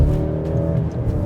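Maserati Grecale Modena engine held at a steady, loud rumble in sport mode, a dense low drone without any talk over it.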